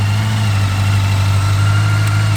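A 1985 Honda Nighthawk motorcycle engine runs steadily nearby with a loud, even, low-pitched idle hum and no change in pace or talking.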